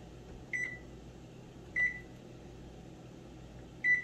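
An oven's control panel is set with three short, clear electronic beeps spaced about a second or two apart over a quiet room hum.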